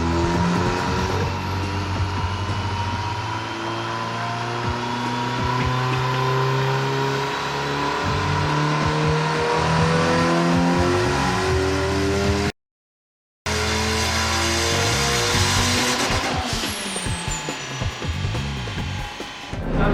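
A supercharged and turbocharged 1.6 liter street car engine revs hard, the pitch rising and falling in repeated sweeps with a brief cut of silence midway, loud and close with no talk.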